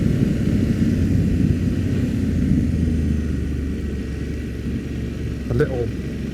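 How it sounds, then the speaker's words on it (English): BMW F900 parallel-twin motorcycle engine burbling off road in Surrey, a steady close rumble that eases slightly on the rundown, with a voice faintly over it. "rundown back burble on this parallel twin"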